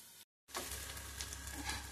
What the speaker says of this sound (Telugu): కాకరకాయ ముక్కలు ఈ విధంగా ఫ్రై అయినాయి